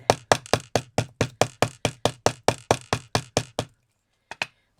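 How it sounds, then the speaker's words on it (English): A hammer taps Milliput into a mould with about fifteen sharp, evenly spaced knocks in quick succession, then a brief pause and two final taps, close and clear. "Now, I'm just going to use my hammer to make sure I get everything in there."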